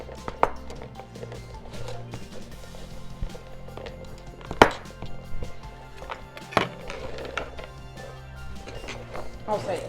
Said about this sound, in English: chop those up. Choppity choppity chop. Here's a chopping board.